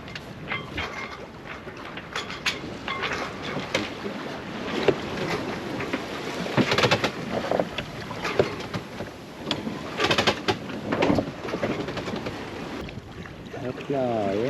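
A sailboat running downwind in a following swell under genoa alone, with the steady rush of water and wind along the hull and periodic louder surges as waves pass.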